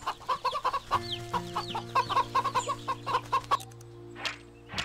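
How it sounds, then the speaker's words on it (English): Chickens in the Wytchwood game cluck in quick repeated bursts over a soft steady background hum, several short calls bunched together, then a pause and another cluster. "Chickens."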